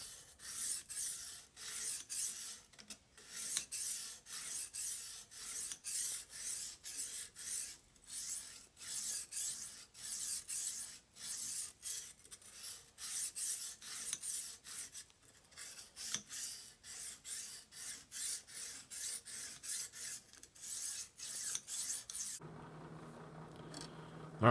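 A large fillet knife is drawn repeatedly across a Lansky guided sharpener. About two dozen seconds of steady, evenly paced scraping strokes sound close but soft, with no talk and a brief quiet stop at the end.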